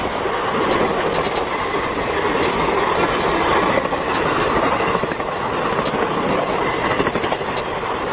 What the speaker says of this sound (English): Seeing a train hit 100 miles per hour is intense.